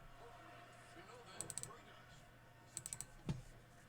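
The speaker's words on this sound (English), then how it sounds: "I got a new mouse and keyboard too," Quick bursts of keystrokes on a Razer LED keyboard, two short clusters of clicks, fairly close and quiet.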